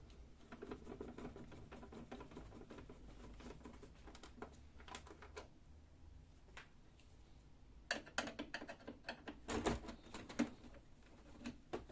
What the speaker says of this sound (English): First we have to take out this front panel by unscrewing the two screws here.